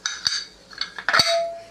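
A metal pressure cooker lid being set in place, with several sharp clinks and one scraping clank in quick succession, close by and otherwise quiet.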